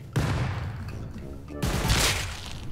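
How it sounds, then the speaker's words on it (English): Gunfire exchange in the video game Rust: two sharp bursts of close, loud shots, the first running about a second and a half, then a brief lull before a second heavy volley, with a voice faintly in between. "we headshot each other"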